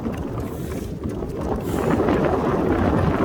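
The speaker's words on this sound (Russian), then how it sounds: "По себе ощущаю очень сильный встречный ветер." Strong headwind buffets the microphone at an outdoor marathon, a steady low roaring rumble that swells louder in the second half, with no voices over it.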